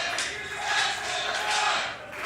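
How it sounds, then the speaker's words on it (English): A wrestling crowd at a Maverick Wrestling event cheers and roars in swelling waves, loud and dense, with voices blending into a continuous shout. "Listen to this crowd here at Maverick Wrestling."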